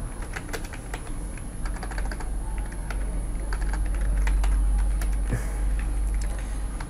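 Steady typing on a computer keyboard, with rapid irregular key clicks close by over a low background hum.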